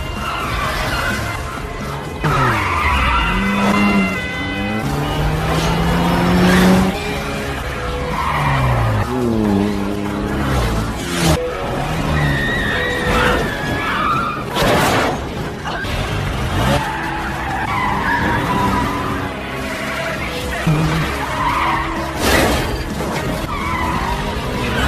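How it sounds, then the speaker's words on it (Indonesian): Car chase from the film The Bourne Identity, with tires skidding and squealing repeatedly, engines revving and a crash amid dramatic music, loud and continuous. "Dan aksi kejar-kejaran pun tak dapat dihindari."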